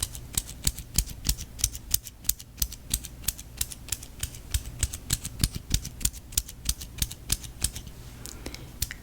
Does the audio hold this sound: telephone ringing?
no